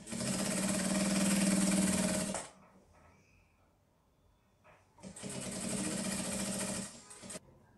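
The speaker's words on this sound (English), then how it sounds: "We're going to sew on this stitch, but you have to be very careful while sewing this." A sewing machine stitches a trouser waistband in two close, loud, steady bursts of rapid mechanical whirring with a quiet pause between them.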